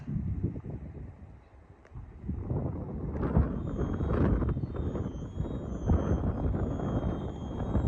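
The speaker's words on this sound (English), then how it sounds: "That wind's picking up, bloody freezing." Gusty wind on the Holderness coast at Withernsea, buffeting the microphone with a low roar that drops briefly and then swells up and stays strong.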